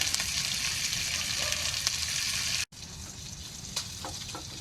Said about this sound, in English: I'm getting ready to make some bacon, some breakfast